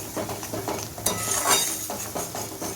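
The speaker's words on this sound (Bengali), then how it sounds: "এবার গ্যাসের ফ্লেমটা বাড়িয়ে দেব এভাবে নাড়তে থাকবো কিছুক্ষণ" Mustard masala stirred in a pan over a raised gas flame, a spatula scraping and clinking against metal in a steady rhythm over a soft sizzle, close and moderately loud with no talking.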